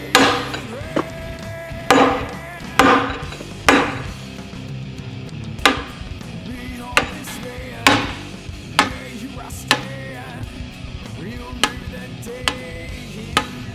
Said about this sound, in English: We're driving the bushing in with a wood block.